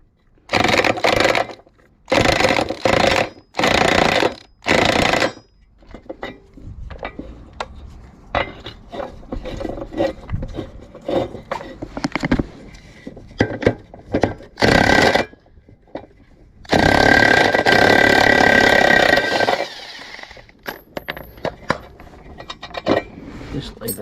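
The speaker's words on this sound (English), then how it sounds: "So I'll take the nut off." Removing the blade nut from a Victa G4 two-stroke lawn mower, with bursts of ratcheting and loud metallic rattles separated by quieter clinks and handling of tools and parts. No one speaks.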